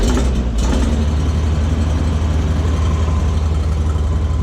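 A blower in an industrial pump setup runs steadily at close range, a loud continuous low hum and drone with a brief disturbance near the start and no speech.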